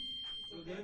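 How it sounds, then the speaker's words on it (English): A building fire alarm sounding during a scheduled test, a steady high electronic tone running through the clip, moderately loud, with people talking over it. "Oh, that's a fire alarm."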